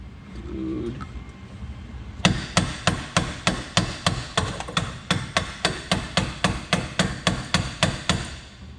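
Mallet blows land in a steady, even rhythm on a Garrett turbo part being forced onto a BMW E36, roughly twenty sharp metallic whacks close by, after a brief stretch of quiet background.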